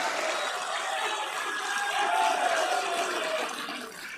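A political rally crowd applauding, a steady wash of clapping heard from a distance for several seconds before fading toward the end, with no voices standing out.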